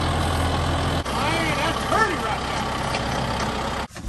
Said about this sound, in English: Like right now, as I'm a back dragging this driveway, you can't be rough with it.